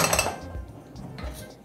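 Small cubes of dried beef go into a metal cooking pot that had held beans, giving a few quick clinks and knocks, close but fairly faint.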